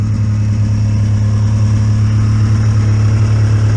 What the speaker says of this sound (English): this is a 96, I believe, or 7 Polaris XLT triple to 600cc, 3-cylinder, 2-stroke